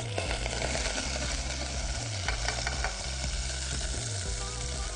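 White vinegar and salt sizzling steadily in a hot pan, a continuous close frying crackle with no voices.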